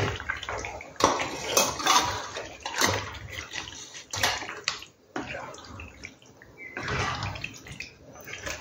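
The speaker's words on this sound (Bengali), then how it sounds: "পাস্তাটা মেশাবো।" Pasta being mixed into tomato puree, ketchup and white sauce in a pan: wet, sloppy stirring with irregular scrapes and clinks of a spoon on the pan, in uneven bursts with brief pauses.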